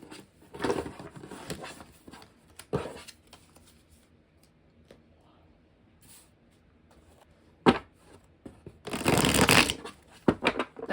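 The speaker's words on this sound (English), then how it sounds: "That was the perfect shuffle." Tarot cards are shuffled nearby in several quick riffling bursts, with a longer flurry near the end and quiet handling in between.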